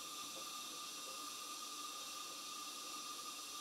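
A model steam plant fired by a Castle steam boiler, steamed up and giving off a constant, even hiss with a faint tonal whine underneath, steady for the whole stretch and with no voices.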